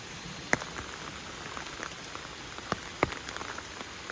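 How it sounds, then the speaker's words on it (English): Light rain falls steadily outdoors near a deer path in the woods, a continuous soft patter punctuated by a few sharper drops hitting nearby surfaces. "And this isn't even a lot of rain."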